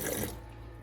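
Liquid RV and marine antifreeze pours from a jug into a camper sink drain, a short close splashing gush that fades quickly into quiet.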